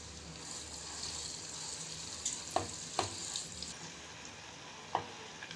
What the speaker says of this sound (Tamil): கொஞ்சமா எண்ணெய் வந்து கொஞ்சம் கொதிக்கணும்